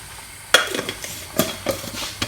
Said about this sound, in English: you have to stir your chocolate halfway through